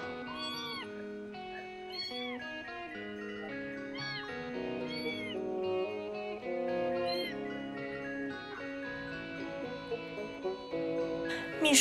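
Young cats on a university dormitory campus meow repeatedly in a series of clear, plaintive calls spread across several seconds, close and fairly loud over quiet background music.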